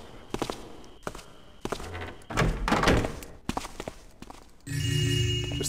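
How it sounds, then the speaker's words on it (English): A door shutting in the video game Ghost Thief 2: a series of dull thunks and footsteps amid muffled game ambience, closing with a sustained low rumble. "when he shuts that door behind him"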